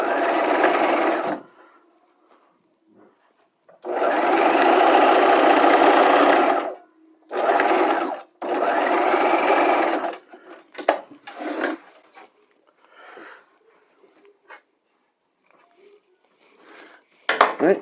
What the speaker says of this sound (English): And we'll stitch it on a 1/2 inch.